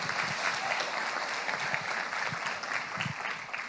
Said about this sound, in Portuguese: Vamos acolher com uma salva de palmas assim,